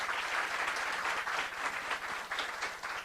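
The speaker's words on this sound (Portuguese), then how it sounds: "Palmas para ele." An audience at a lecture event claps steadily, a dense wash of applause lasting a few seconds with no break.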